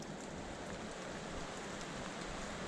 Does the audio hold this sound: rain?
yes